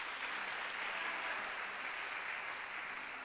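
A church congregation at a French-language worship service applauding Jesus Christ, a broad, even wash of many hands clapping together at moderate distance, sustained throughout without a break.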